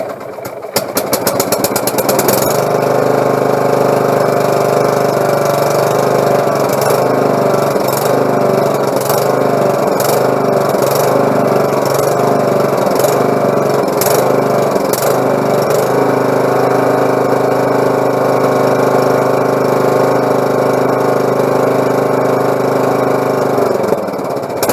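A lawnmower engine cranks and catches after a carburetor repair, then runs loud and close with a steady chugging drone, its speed surging and settling briefly before holding an even idle.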